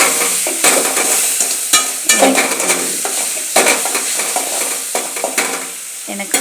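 Bread roast frying and being stirred in a pan, with a steady sizzle and repeated scraping and stirring strokes throughout, close and fairly loud, with no talk.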